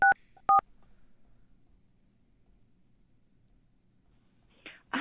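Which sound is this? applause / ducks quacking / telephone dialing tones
telephone dialing tones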